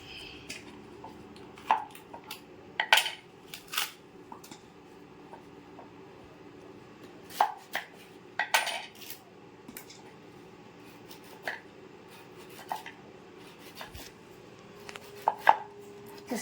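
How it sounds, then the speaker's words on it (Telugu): Coconut being chopped into small pieces with a knife for sweet chana dal coconut balls, giving irregular sharp chops, some single and some in quick clusters, close by over a quiet background. "ఇప్పుడు కొబ్బరిని కట్ చేసుకుంటా చిన్న చిన్న ముక్కలు చేసుకుందాం"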